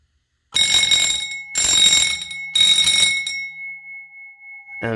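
Fire alarm bells ring loud and close during an alarm system walk test. Three harsh ringing bursts of about a second each are separated by short gaps, then a steady electronic tone carries on alone.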